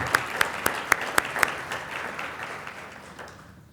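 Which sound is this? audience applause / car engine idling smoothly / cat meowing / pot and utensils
audience applause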